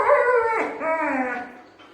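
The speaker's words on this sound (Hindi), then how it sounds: "अब मैं जब भी हटाने की कोशिश करूँगा ना, ये मुझे गुर्राएगा, देखिए फिर करता है।" A dog growling and whining as someone tries to move it, a close, loud, drawn-out whine with a wavering pitch that fades at the end.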